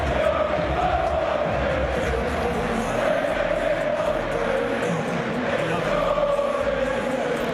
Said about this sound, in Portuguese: A paixão é tão grande que a torcida até já fez uma música própria para ele